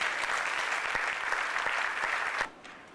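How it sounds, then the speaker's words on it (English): An audience at a high school soccer team celebration breaks into loud, dense applause that holds steady for about two and a half seconds, then drops away abruptly. "I'd like to give you a round of applause too"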